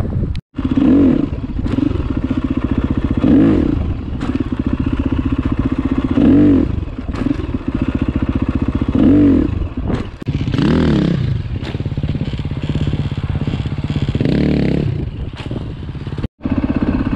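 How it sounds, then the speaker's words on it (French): A motorcycle holding a stationary wheelie during wheelie training, its engine roaring loud and close with a steady drone and periodic revving surges, plus a brief cut-out near the end. "je vous mets juste quelques secondes de wheeling à l'arrêt"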